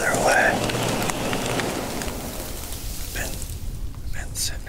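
Rain falls steadily during a lightning storm in Texas before daylight, a dense hiss that is loudest at first and then eases, with a few faint higher calls in the background.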